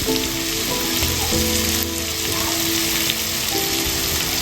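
Rava upma frying in a pan, a loud, dense, rain-like sizzle running steadily throughout with some tonal kitchen noise beneath.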